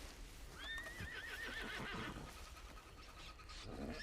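A horse in a video game whinnies loudly with a rising then wavering neigh, amid faint hoof clops and background noise.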